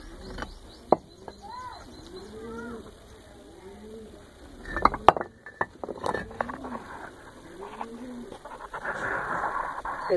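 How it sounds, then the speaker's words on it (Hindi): Red pigeons perched at a village house give repeated soft, low cooing calls in a slow rhythmic series, close by, with occasional clicks and faint rustling between the coos. "लाल कबूतर बैठे"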